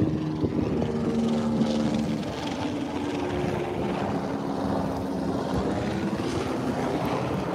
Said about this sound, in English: Maybe you can take a helicopter ride.